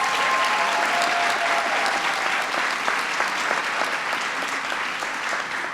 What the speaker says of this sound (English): Can I just hear a round of applause for the folks who are military kids?